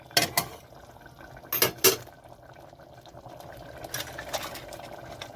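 Metal clatter as a lid is fitted onto a pressure cooker of mutton liver, several sharp clanks near the start and again later, with a quiet bubbling between.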